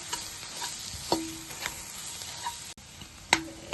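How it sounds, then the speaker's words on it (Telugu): A spoon stirs garam masala into egg bajji stuffing in a hot pan, with soft sizzling under a few sharp scrapes and taps against the pan. "1/2 టీ స్పూన్ కొంచెం గరం మసాలా వేసుకుందాం. వేసుకుని ఇలా కలుపుకోవాలి"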